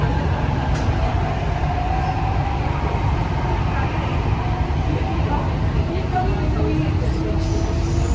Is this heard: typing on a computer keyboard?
no